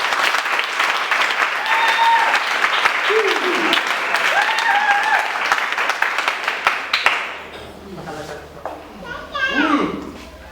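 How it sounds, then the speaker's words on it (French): Guests at a civil wedding ceremony break into loud sustained applause for about seven seconds, mixed with cheers and children's voices, then the clapping fades into scattered chatter and high excited voices. "applaudissons très fort."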